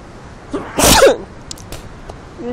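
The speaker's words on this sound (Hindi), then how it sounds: "छींक आ गई, शुक्र है छींक आ गई" A single loud, sharp human sneeze bursts out near the middle, close by, set against faint outdoor background noise beside a river in the Naran valley.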